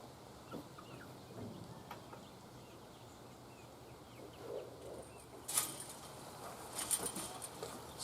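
Backyard chickens cluck faintly and intermittently at a distance, with a few sharper calls standing out against soft outdoor background noise.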